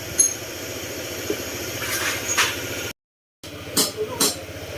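Honda motorcycle engine at about 6,000 km idling steadily with a throbbing low pulse and faint metallic clinking suggesting an abnormal internal noise, heard close up with a brief dropout midway.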